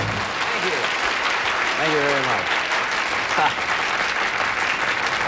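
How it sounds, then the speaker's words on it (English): A studio audience on the Password game show applauds in a steady, dense wash of clapping from start to finish, with a voice speaking briefly over it. "Well, I hope you're applauding for these servicemen"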